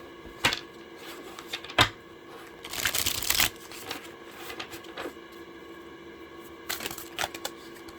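Quiet riffling and shuffling of tarot cards, with brief flicks and a louder burst of shuffling partway through, close and soft, no talking.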